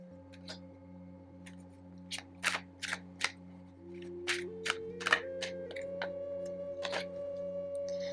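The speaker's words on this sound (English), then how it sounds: "I'm also going to pull some energy oracle cards, which are right here." Oracle cards for an energy reading shuffled in hand, a series of crisp riffling and snapping bursts scattered across the stretch, fairly close, over a steady low background hum with no talk.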